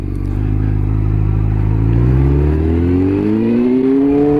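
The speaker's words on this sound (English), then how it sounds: "Give it your full throttle." A Honda FireBlade motorcycle revs at full throttle, its engine note climbing steadily through the rev range. Loud and close, with no talk over it.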